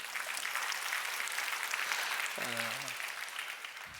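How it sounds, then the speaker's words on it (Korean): Church congregation applauding during an Easter Sunday service, a steady broadband patter of clapping filling the room throughout, with a brief voice cutting in partway through. "우리 중고등부 친구들 잘 되라고 박수 한번 해주세요."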